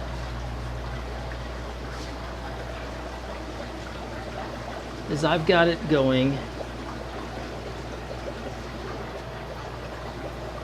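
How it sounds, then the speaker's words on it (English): Water trickles steadily into a fish tank, siphoned from a tank above in a fish room, a soft constant flow heard close, with someone speaking briefly midway. "water comes, I just have it siphoning from a tank above, and the water siphons in, constant flow"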